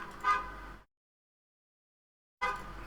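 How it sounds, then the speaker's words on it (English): A car horn honks from outside a window, in two bursts separated by a long silent gap, heard faintly at a distance. "Someone outside my window is honking very aggressively."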